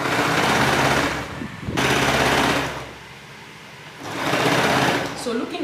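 A sewing machine joins a gathered dress sleeve to the bodice in loud, close bursts of rapid mechanical whirring, stopping and starting twice, with a voice talking over it.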